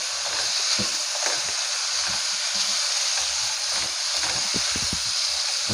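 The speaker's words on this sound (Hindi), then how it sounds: "दो मिनट आप इसको इस तरह से मसाले में इसको पकाएं कि आलू, तमाम मसाला जो है आलू के ऊपर कोट हो जाए।" Potatoes cooking in a spice masala in a pan for khatte aloo give a steady, close sizzle and hiss, with soft scraping stirs throughout and no talking.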